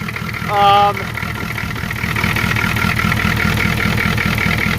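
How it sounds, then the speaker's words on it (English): A loud, steady diesel engine of a Ford F-350 truck with a fuel leak idling close by, a constant low rumble with a brief tonal beep near the start. "this engine is nice and loud and happy this morning"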